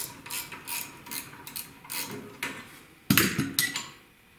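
Wrench working a bolt loose on a 2002 VW Passat, a faint series of metallic clicks and ratcheting clanks at uneven intervals, with a louder clank near the end, no talking.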